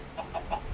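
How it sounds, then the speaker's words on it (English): Three short clucks from a chicken in a Minecraft-style video game, evenly spaced and soft, heard alone over a faint low background. "Ah, chicken!"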